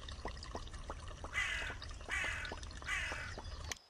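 A bird in the video game Pumpkin Panic caws three times at steady intervals, fairly faint and mid-distance, over soft game ambience with light tapping footsteps.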